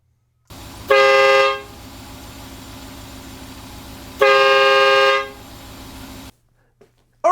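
Hidden air horn fitted to a RAM 1500 Limited pickup truck sounds two loud, steady blasts, each about a second long, with a low engine idle running underneath.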